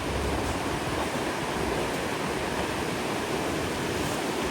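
Large ocean waves surge around a small fishing boat at sea, a loud, unbroken wash of surf and spray that fills the scene with no voices.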